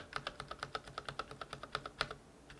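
Rapid, steady keystrokes on an ASUS ROG Strix Scope RX keyboard with optical switches and lubricated stabilizers, close and crisp, about a dozen clacks in quick even rhythm with no talking.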